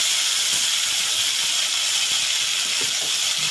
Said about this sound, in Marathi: तेल तापले आपलं. आता मसाला टाकूया.